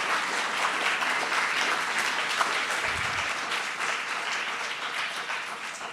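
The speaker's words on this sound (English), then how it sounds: "Please give them a round of applause" A forum audience gives a round of applause for the authors and commentators, a thick sustained roar of many clapping hands at steady loudness throughout, with no voices over it.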